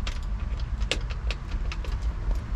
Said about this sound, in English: So to start this truck, you put the key in like normal